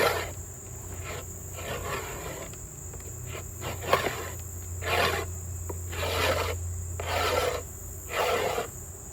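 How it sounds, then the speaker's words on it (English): A hive tool scrapes excess propolis and wax comb off a wooden beehive frame during an early-September inspection, giving repeated rasping strokes in a steady rhythm, close up, over a constant chorus of insects and crickets. "I'm just taking any of the excess propolis and comb, and I'm just kind of cleaning it off"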